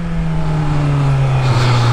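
Motorcycle engine running with traction control switched on, holding a loud, steady close-up drone that wavers and briefly stutters as the power cuts out near the end.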